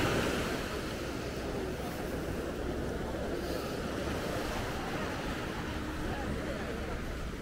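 Surf washing onto a beach in Bali, a steady broadband wash with wind buffeting the microphone, continuous and fairly close throughout with no distinct individual breakers standing out.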